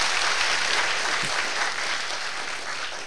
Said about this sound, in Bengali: একটু হাততালি তার জন্যে।